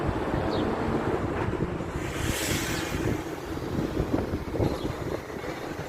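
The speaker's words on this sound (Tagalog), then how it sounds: "Mahangin sa labas, eh." Strong wind buffets outdoors, a continuous rushing roar with gusty swells and rumbling microphone noise, no talking.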